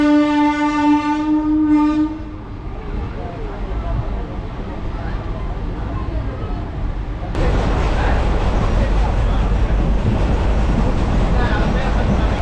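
A passenger train on the Trichy to Villupuram line sounds a long horn blast, then rumbles and grinds loudly as it pulls into Parikkal station and slows to a stop, the steady wheel noise swelling again near the end.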